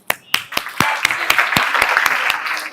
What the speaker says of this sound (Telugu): దీనికి నేను క్లాప్స్ కొడతాను